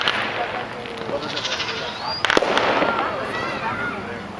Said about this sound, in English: Now the fireworks are gonna start